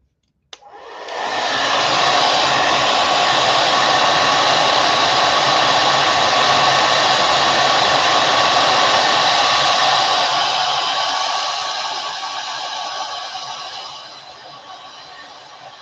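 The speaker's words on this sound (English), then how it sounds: "Let me get my blow dryer going over here." A blow dryer used to dry acrylic paint on a painted face piece switches on with a click and roars steadily for over ten seconds, then its pitch and level drop slightly near the end; no one speaks.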